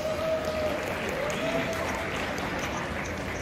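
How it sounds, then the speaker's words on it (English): An audience at a pageant event claps warmly with a full, continuous wash of applause, mixed with some crowd murmur and background music, throughout the short stretch. "Let's give him a warm applause."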